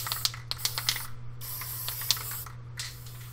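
Short hissing bursts from a gold spray paint can, several quick sprays then longer ones, close by over a low steady hum.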